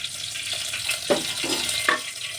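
Green chillies and curry leaves fry in oil in a pan with a steady close hiss and sputter, broken by a few sharper crackles and splutters.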